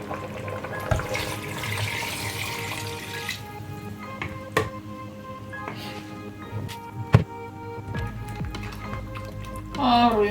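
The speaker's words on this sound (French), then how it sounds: "On ajoute de l'eau." Water poured into a pot of pepper soup with chicken, a steady splashing pour under a continuous background hum, with a few small clinks and a louder clatter near the end.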